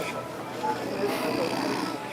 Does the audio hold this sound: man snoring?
yes